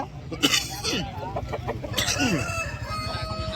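A Kaki Dega country rooster at a busy Sunday chicken market crows and clucks repeatedly at close range, with other fowl and people talking in the background.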